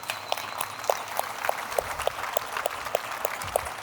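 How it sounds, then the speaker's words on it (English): An audience gives a big round of applause for a woman being welcomed at a hackathon event, with the clapping steady and fairly close, marked by a regular run of sharper claps. "big round of applause for her"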